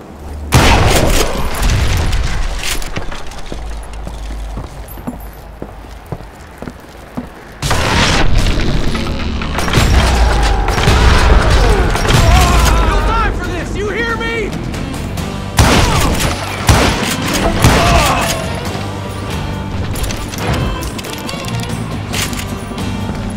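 Dynamite charges blowing up in the Wild West shooter Call of Juarez Gunslinger, heavy booming blasts with crackling debris and gunfire-like pops, loud and dense throughout with a brief lull before a second big blast.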